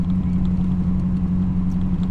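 A 1972 Datsun 580Z Spyder with a bored-over 350 Chevy V8 making 355 drives steadily, giving a deep, continuous engine rumble at close range with no voices.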